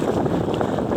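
Steady rushing wind gust buffets a sail-rigged kayak out on the water, a continuous broad roar with no talking, loud and close to the microphone.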